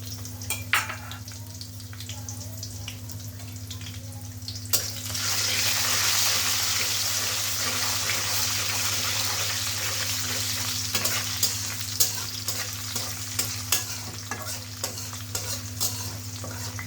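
Chopped onions hit hot oil with a sudden loud sizzle about five seconds in, then keep frying steadily while a utensil scrapes and stirs in repeated clicks, over a constant low hum in the background.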